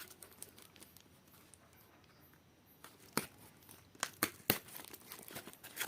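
Plastic and paper packaging of a new Poco M6 Pro phone crinkling and tearing during unboxing, faint rustling at first, then louder sharp crackles and rips in quick bursts, close by with no talk.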